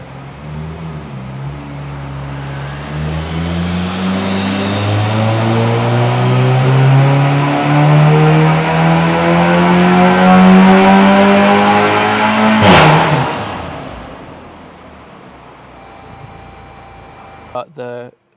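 An Audi B9 A4 fitted with a TTE440 turbo pulls hard through the gears, its engine note climbing loudly and steadily before a sharp lift-off and fade.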